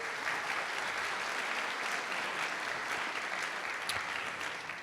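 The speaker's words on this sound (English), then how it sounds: "Let's give him a round of applause." Steady applause from the audience at a high school band concert, dense clapping sustained for several seconds at moderate distance.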